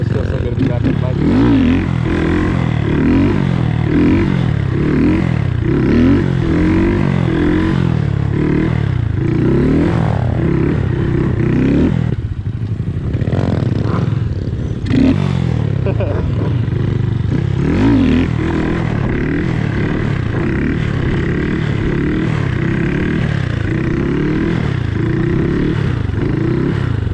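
A stunt motorcycle rides and revs continuously at close range, its loud engine note rising and falling over nearly half a minute, with a voice talking over it at times.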